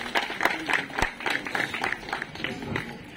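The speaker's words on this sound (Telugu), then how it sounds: "దయచేసి అందరూ క్లాప్స్ తో వాళ్ళని వెల్కమ్ చేయండి." Audience clapping to welcome cheque recipients at a public welfare fair in Badvel, a scattered, fairly quiet patter of hand claps with uneven rhythm and some background voices.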